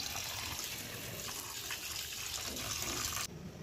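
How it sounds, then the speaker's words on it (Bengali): Tap water runs steadily over raw chicken being washed in a kitchen sink, a constant close splashing rush with faint shifts as the pieces are handled, then the flow abruptly cuts off near the end. "প্রথমে আমি চিকেনগুলোকে ভালো করে ফ্রেশ জলে ধুয়ে নিলাম।"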